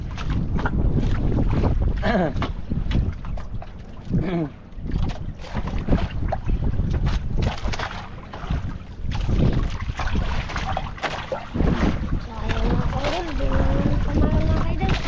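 A small wooden outrigger boat moving on water with heavy wind buffeting the microphone and people talking throughout.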